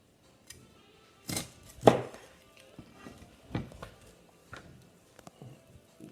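Chicken wings chopped at the joint with a sharp knife on a board, a few separate sharp chops and knocks spaced unevenly, close by in a quiet room without talk.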